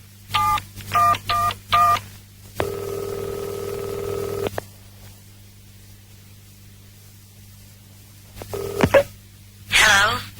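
A telephone number dialed on a touch-tone phone: a few short beeps, then a long steady tone, a pause of quiet, then more beeps and a brief burst of noise, fairly loud and close.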